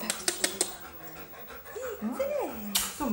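A small dog pants quickly in rhythmic huffs during a trick session. The panting runs under a person's rising, sing-song coaxing voice and a few sharp clicks.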